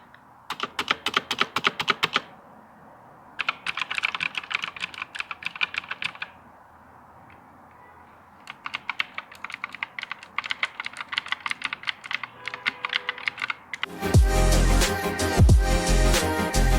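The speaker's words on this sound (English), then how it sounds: "So next I will do a quick typing test so you can understand how this blue switch sounds like." Someone types on a K28 mechanical keyboard with blue switches, producing crisp, clicky keystrokes in fast bursts separated by pauses. Loud, broadband music-like sound takes over near the end.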